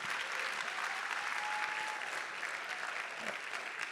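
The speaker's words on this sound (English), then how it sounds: "Round of applause, please, for" An audience at a city's State of the City address breaks into sustained applause, a dense, steady clapping from a large crowd that holds throughout.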